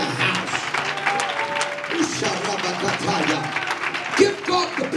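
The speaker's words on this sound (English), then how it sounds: "Now somebody clap your hands to the Lord and give God the praise in the house" A church congregation claps and praises during a preaching service, steady dense clapping in a large room with voices and shouts over it throughout.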